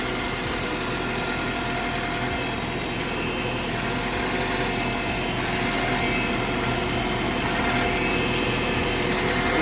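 Farmall Super-A tractor engine running steadily in good shape, a continuous dense mechanical drone with constant vibration and no pauses, close and fairly loud with no speech.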